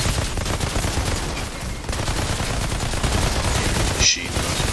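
Machine gun fire in the Outriders video game rattles out in a dense, continuous burst of rapid shots that fills the whole stretch, with a sharp brief accent near the end.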